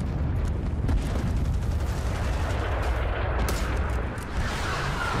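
Video-game artillery fire rolls as a dense, continuous barrage of booming blasts and crackling gunfire, loud and unbroken for several seconds.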